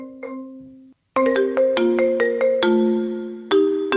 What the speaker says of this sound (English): let's do all the ringtone sounds on the xylophone.